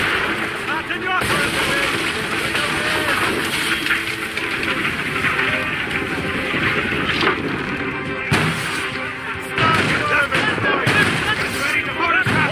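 Cannon fire booms across a naval ship battle in Assassin's Creed Rogue, with dense, continuous blasts and rumbling under shouted orders and combat din.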